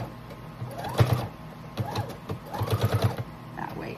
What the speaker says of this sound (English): I'm going to stitch all the way to the end of this underneath one